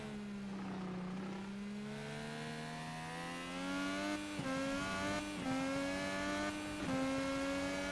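An IndyCar engine in a racing video game wails steadily, its pitch climbing and then dropping sharply at several upshifts, a constant high-revving drone with no talk over it.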